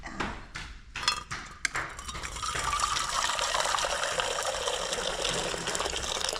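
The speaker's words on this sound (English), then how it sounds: "I'm going to add some water" Water is poured into a sufuria cooking pot in a Kenyan kitchen while noodles are being prepared. A few sharp knocks come first, then a steady gushing stream fills the pot for several seconds, close and clear.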